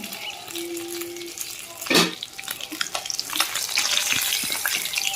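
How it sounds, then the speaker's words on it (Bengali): Pangas fish frying in oil in a covered pan, giving a steady close sizzle and crackle with a brief louder burst near the middle. "পাঙ্গাস মাছ ভাজার সময় একটু তেল ছিটায় তো তাই বন্ধুরা আমি ঢাকা দিয়ে এইভাবে ভাজছি"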